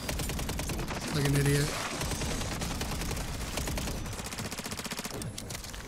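Automatic weapon fire in Modern Warfare III Zombies, a steady rapid stream of shots aimed at a hellhound, running through the whole stretch while a player talks over it.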